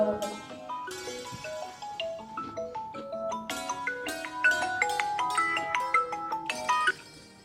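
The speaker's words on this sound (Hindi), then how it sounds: "इसका फोन आ रहा है, इसे देख लो।" A mobile phone plays a melodic ringtone for an incoming call, a bright repeating tune of rising and falling notes sounding alone at moderate volume.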